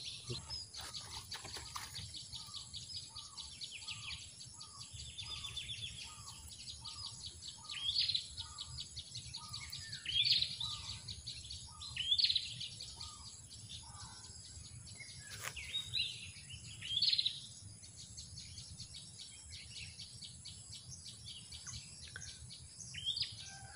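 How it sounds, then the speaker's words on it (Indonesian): Wild birds call from overhead while someone is out bird trapping. A repeated series of short chirps rises over a faint steady insect drone, with a few louder whistled calls scattered through the latter half. "burungnya sudah bunyi-bunyi di atas"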